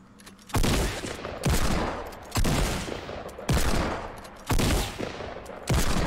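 Alternating tactical shotgun and Deagle shots in Fortnite, six loud, sharp blasts spaced roughly a second apart, each with a short decaying tail, and no voices.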